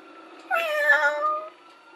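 A single cat meows once, a clear drawn-out yowl of about a second, close and alone against a quiet background.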